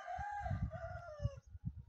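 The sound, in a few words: chicken crowing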